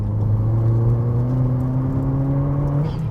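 Remapped Mk4 VW Golf GTI with 230 brake horsepower accelerating on an icy road, a steady engine drone rising in pitch through the rev range from inside the car, loud and alone.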